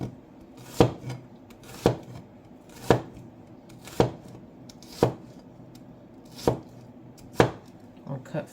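An onion being julienned with a knife on a board, with about eight evenly spaced, crisp chops close by and nobody talking.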